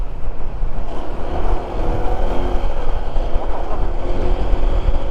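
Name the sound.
motorcycle engine running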